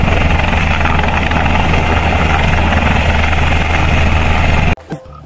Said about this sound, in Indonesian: Wow, ini helikopter tempur guys